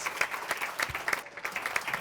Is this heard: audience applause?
yes